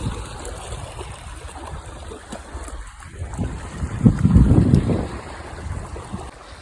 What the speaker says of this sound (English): Wind is picking up though and it was really pretty cold